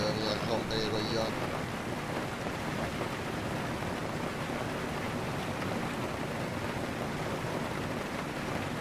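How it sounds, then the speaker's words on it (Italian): Steady rain and rumbling thunder in a zombie apocalypse survival video game, a dense continuous wash filling the whole stretch, with a brief brighter tonal sound near the start. "Cazzo di pioggia proprio ora deve venire a rompere i coglioni."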